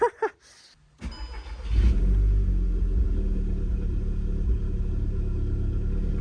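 A Volkswagen Scirocco R's engine catches after a brief start sequence, then settles into a steady, close, deep rumbling run that holds without change to the end.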